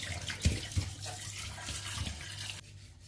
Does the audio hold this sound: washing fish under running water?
yes